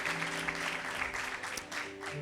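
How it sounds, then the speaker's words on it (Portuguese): A church congregation applauds, with dense, continuous clapping from many hands under a low background hum. "Você pode aplaudir a Deus pelo ano da graça, irmão?"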